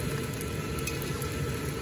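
Pempek Palembang, the Indonesian fish cake, deep frying in hot oil at a street food cart, a loud steady sizzle and bubbling throughout, close and continuous, with no voices.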